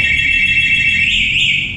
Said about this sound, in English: Has an alarm system on it. It's alarmed.